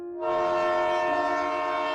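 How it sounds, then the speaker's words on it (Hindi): A train horn sounds at a station, a sustained steady blast beginning after a brief pause and holding loud and continuous with the rumble of a passing train beneath it. "तभी दूर से ट्रेन की सीटी सुनाई दी।"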